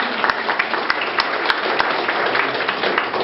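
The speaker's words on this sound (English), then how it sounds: "I think these folks are also deserving a round of applause." Wedding guests applaud at a ceremony, a continuous wash of many hands clapping at moderate loudness, with a few sharper individual claps standing out, no voices over it.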